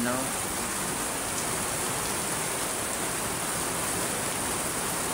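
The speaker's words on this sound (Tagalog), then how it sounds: "palakas na ng palakas ang ulan" Heavy rain over Manila Bay pours down in a dense, steady roar that fills the scene without pause, loud and close.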